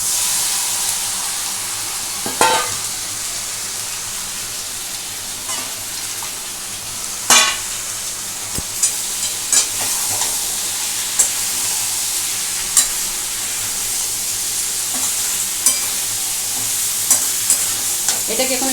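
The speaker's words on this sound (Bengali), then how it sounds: "এখানে ভাজার আলুটা আর চিংড়ি মাছটা আমি একদম মিশিয়ে দেবো" Fried potatoes and prawns being stirred together in a hot pan for a prawn curry, a continuous sizzle with sharp spatula scrapes every couple of seconds, close up and without speech.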